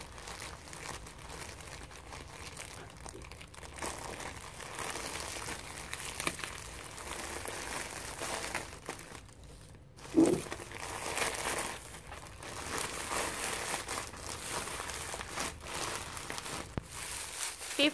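A large bag crinkles and crumples in repeated bursts up close while a wine bottle is being filled for a scarecrow craft, with crisp rustling and occasional louder crunches over a quiet room.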